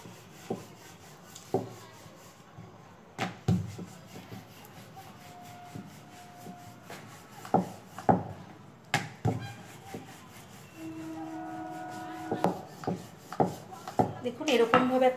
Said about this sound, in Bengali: এটাকে এবার রুটির মতো বেলে নেব, একটু ময়দা দিয়ে, শুকনো ময়দা দিয়ে বেলে নেব এবার এটাকে আমি